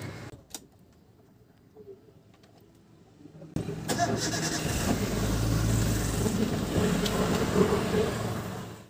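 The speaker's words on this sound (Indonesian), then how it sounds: "Oke, kita nyalain mesinnya." A 2004 Toyota Avanza G with manual transmission starts up after a quiet stretch with a few small clicks and a bleat-like squeal. The engine catches and settles into a steady, fairly loud idle close by.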